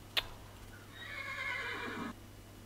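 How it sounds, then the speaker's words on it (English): Horse neighing in the Minecraft video game, a single drawn-out whinny of about a second, clear and close over a faint steady hum, preceded by a brief click, with no talking. "Oh, poor horsey."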